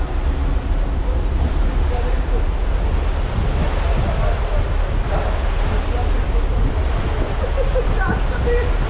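Sea waves and wind on the deck of a Silja Line cruise ship crossing the Baltic Sea, a steady loud rush of surf and wind buffeting that continues throughout.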